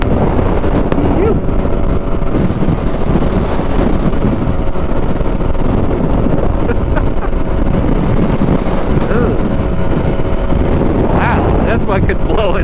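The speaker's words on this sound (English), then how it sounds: "I mean, this windy as fuck" Strong wind on the coast near Hilo, Hawaii, buffeting the microphone in a loud, constant roaring rumble that never lets up.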